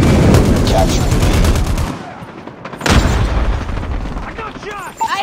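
Gunfire in the Call of Duty Mobile video game, loud and dense bursts crackling throughout, a sharp blast near the middle, with game announcer voice lines over the shooting.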